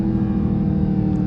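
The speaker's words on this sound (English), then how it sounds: "Let me downshift real quick." A Dodge Hellcat driven in the rain gives a loud, steady low engine drone throughout a short burst, with no clear rev spike audible and no speech.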